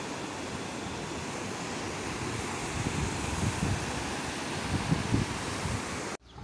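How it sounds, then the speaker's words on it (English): A river flows near an apartment, giving a steady, broad rushing of water mixed with some wind buffeting. It stays fairly constant and moderately loud with no voices, then drops off suddenly at the end. "this is the river"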